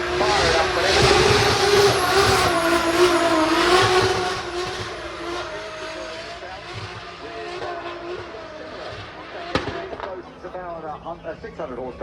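A turbocharged Toyota Supra 2JZ straight-six in a drift car at the Goodwood event screams loudly up close, revving hard for the first few seconds before fading into a distant drone, with a sharp bang near the end.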